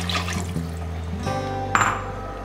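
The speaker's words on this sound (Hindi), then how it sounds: "जितना चावल लिया है उससे डबल हम पानी ले लेंगे" Water pouring into a pot of rice for saffron sweet rice (kesari bhaat), double the rice volume of about 4 cups; a steady liquid stream with rising fill tones and a brief clink, close and moderately loud, with no talk.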